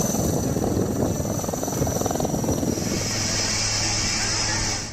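Army rescue helicopter during flood rescue in Shivpuri, Madhya Pradesh, its rotor thudding rapidly and steadily with a whining turbine, loud and sustained, then fading slightly at the end.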